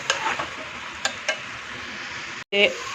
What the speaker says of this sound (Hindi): इसको अब हम अच्छी तरह से भून लेंगे।